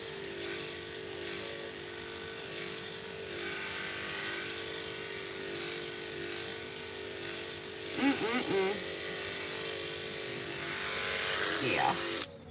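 An electric clipper buzzes steadily while trimming a dog's coat during a teddy bear cut grooming session, a constant close hum with a person talking over it partway through.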